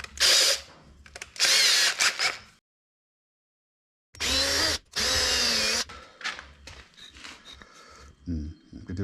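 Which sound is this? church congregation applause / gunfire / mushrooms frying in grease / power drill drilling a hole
power drill drilling a hole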